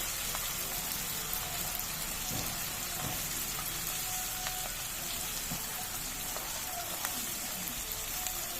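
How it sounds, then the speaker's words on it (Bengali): Green chillies and tomatoes fry in a pan with an even, moderately quiet sizzle and occasional soft stirring scrapes. The sound runs continuously and no one speaks. "কাঁচা লঙ্কা টমেটো এগুলো ভালো করে একটু নেড়ে নেবো"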